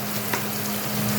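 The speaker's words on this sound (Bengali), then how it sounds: "বেশ কয়েক কোয়া রসুন। এটা একটু হালকা ভাজতে দেব।" Several garlic cloves fry gently in a pan for bhindi bharta, making a brief, dense, even sizzle close by. A low steady hum runs underneath, and no one speaks.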